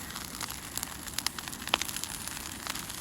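Garden bonfire of rolled-up waste material crackles and pops continuously outdoors, dense irregular snaps over a steady hiss, fairly close and with no talking.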